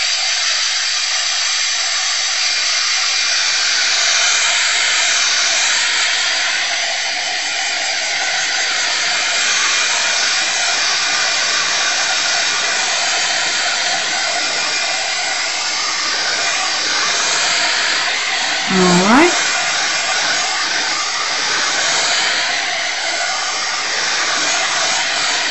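A hot-air tool blows heat across a resin surface to pop the bubbles, making a loud, steady, close whir that runs unbroken for the whole stretch, with one brief knock near the end.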